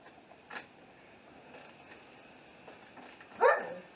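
A dog barks in the background during work on a 2001 Jeep Cherokee's power steering pump: a faint yip early on, then a clearer, louder bark near the end over quiet room noise.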